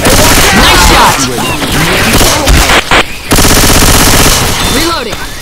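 Sustained automatic gunfire in the zombie shooter Left 4 Dead 2, loud rapid bursts with brief gaps and booming impacts, a voice briefly heard among the shots.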